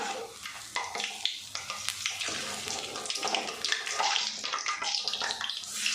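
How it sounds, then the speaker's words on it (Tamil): Urad dal vadas deep-frying in hot oil, a dense bubbling crackle throughout with a few sharper pops as the fritters are turned, close and moderately loud, no speech. "வடை ஒரு பக்கம் நல்லா பொரிஞ்சு வந்துருச்சு. நம்ம அடுத்த பக்கம் திருப்பிடலாம்."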